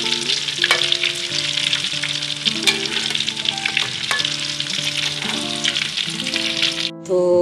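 Kofta kababs frying in hot oil crackle and sizzle loudly and continuously, with bursts of spattering pops and stirring scrapes heard close up, while faint tonal background music plays underneath.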